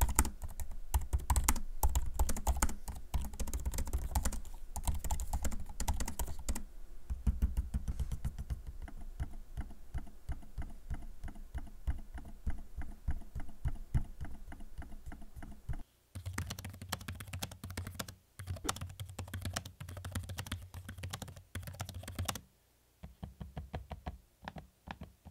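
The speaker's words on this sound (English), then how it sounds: "I'm gonna give you a quick audio sample of both the keyboard and trackpad so you can hear them" Rapid Asus Zephyrus G15 laptop key clatter with dense, uneven taps, broken by brief pauses and a stretch of sharper, spaced trackpad clicks, close and fairly loud.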